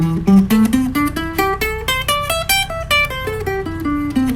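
An electric guitar plays a pentatonic scale up and then back down, single notes picked one after another in an even rhythm, clear and close.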